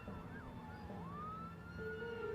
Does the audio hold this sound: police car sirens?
yes